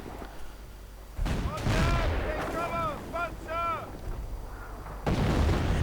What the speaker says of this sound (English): And artillery going in against the Panzer Grenadiers